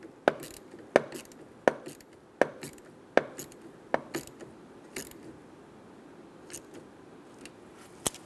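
A ratchet snugs down the negative battery cable terminal on a 2014–2018 Chevrolet Silverado 1500, giving crisp metallic clicks in a steady series that grow softer and sparser toward the end.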